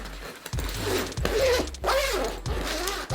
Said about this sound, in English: Try out the zippers.